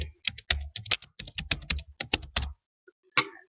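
Fingers tap a computer keyboard in a quick, uneven run of close, crisp keystrokes, pausing briefly before one last key press.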